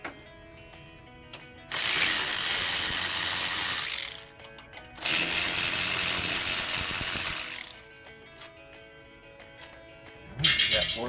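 Bursts of loud, rapid ratcheting from a half-inch ratchet loosening wheel hub bolts on a Ford F-150, two long runs separated by short pauses, with a few clicks and clanks between.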